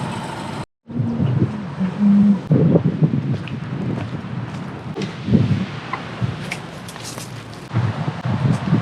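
Wind blows outdoors, buffeting the microphone with a low, uneven rumble and gusty swells, while faint road traffic hums in the background.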